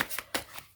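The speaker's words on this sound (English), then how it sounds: "I'm going to be shuffling twice" A deck of tarot cards being shuffled: quick riffling bursts, three or four short papery flurries in under a second, close and crisp with nobody speaking.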